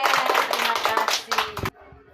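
A classroom of pupils performs a rhythmic clapping cheer, a dense burst of many hands clapping together with voices chanting over it, loud and close, stopping abruptly near the end.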